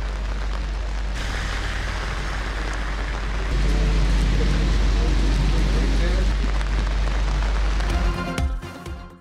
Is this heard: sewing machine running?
no